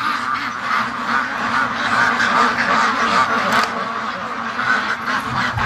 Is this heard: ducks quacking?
yes